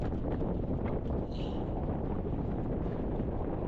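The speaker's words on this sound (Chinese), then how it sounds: "一出发就开始在刮风了" Steady wind buffets the microphone during a bicycle ride on China's Highway 219 in a dusty, high-altitude desert region near the Kangxiwa pass. The noise is a continuous broadband rush with no talk.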